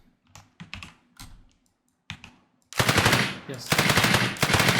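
Rapid automatic gunfire sound effect for a weapon in an Unreal Engine 5 third-person shooter, loud sustained bursts following a few scattered clicks and a brief spoken word.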